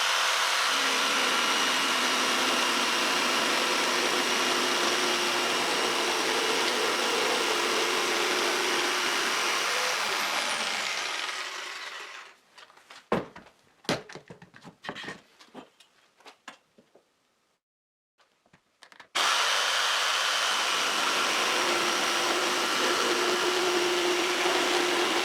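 A jigsaw cuts a crosscut through a wooden board, a loud, steady buzzing whine that runs for about twelve seconds, breaks off into scattered clicks and knocks, then starts again at full volume.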